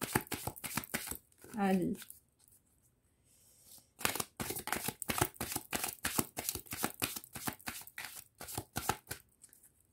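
Tarot cards are shuffled and drawn up close, with a rapid run of crisp, rhythmic riffling snaps that follows a brief spoken word.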